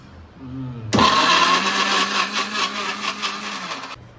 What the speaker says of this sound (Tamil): மிக்சியில் தக்காளி வந்து அரைக்கிறான்